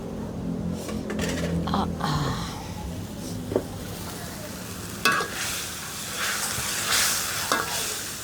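Sun-dried pork stir-fried in a pan sizzles steadily while a spatula scrapes and clacks against the metal in irregular strokes, moderately close and without talking.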